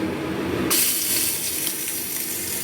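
Water runs into a mixer grinder container to rinse out leftover coriander paste, a sudden steady splashing gush starting just under a second in and continuing alone to the end, close and fairly loud.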